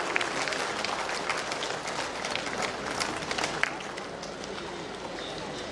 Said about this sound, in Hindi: तालियां हो आपकी ओर से।